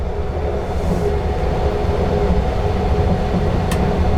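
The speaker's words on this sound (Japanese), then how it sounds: "列車は今から淀川を渡ります。" The Sunrise sleeper express crosses the Yodo River in Osaka, heard as a steady, loud rolling rumble of wheels and running noise with a brief hiss near the end.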